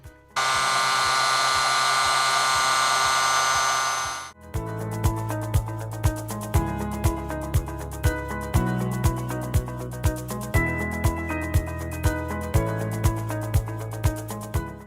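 An electric beard trimmer runs through the mustache hair with a steady, loud buzz for about four seconds, then stops and rhythmic music takes over.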